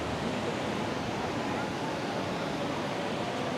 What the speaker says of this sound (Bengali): সাগর বেশ উত্তাল, যে জিনিসটা দেখার জন্য মূলত আসা